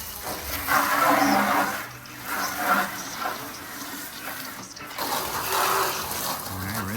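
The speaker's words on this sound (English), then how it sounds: "Better open it up a little bit and rinse it out good. Can't leave any soap in them." Water runs steadily while soap is rinsed out, a close, continuous gushing that rises and falls, with a voice talking faintly over it.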